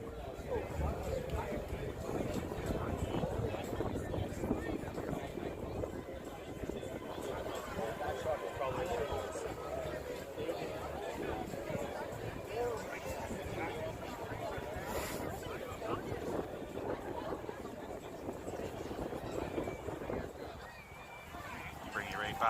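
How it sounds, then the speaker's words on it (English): Dense, continuous hubbub of a protest crowd gathered near a fence, a steady wash of many overlapping voices with occasional louder shouts rising out of the murmur. "Looks like the crowd's slowly thinning out."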